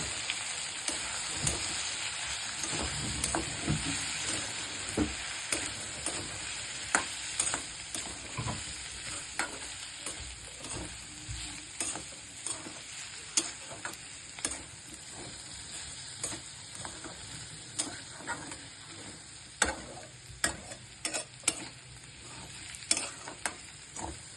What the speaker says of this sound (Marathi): एक चमचा गोडा मसाला, मिक्स करून घ्या.